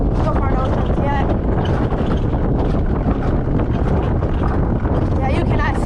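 Loud, constant wind roaring past the microphone on the Smoky Mountain Alpine Coaster in Pigeon Forge, a heavy buffeting rush with people's voices faintly mixed in.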